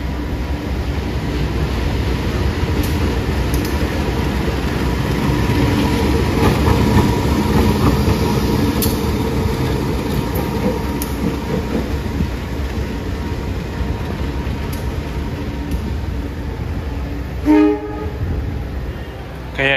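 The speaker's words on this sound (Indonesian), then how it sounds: "Kayaknya lokomotif dinasnya kereta api Belambangan ya." Blambangan passenger train waiting at a station with its locomotive ahead, a steady low rumble of the idling engine and station ambience, with a brief metallic clank near the end.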